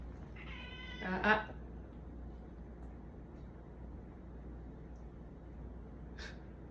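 A single cat lets out one drawn-out, close meow over a steady low background hum, followed by a faint, brief sound a few seconds later, with no caterwauling or scuffle.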